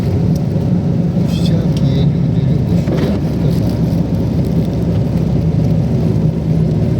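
A car driving with repeated slowing and moving off, heard as a loud continuous interior road rumble, with voices talking over it.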